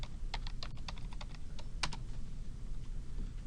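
Rapid, light clicks of a computer keyboard as values are typed in, a close run of uneven keystrokes over a steady low room hum, no voices.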